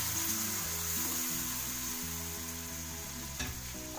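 Tomatoes go into frying masala in a pan for Indian bottle gourd (lauki) curry, giving a steady, loud, close sizzle that runs throughout with faint stirring scrapes and no talk.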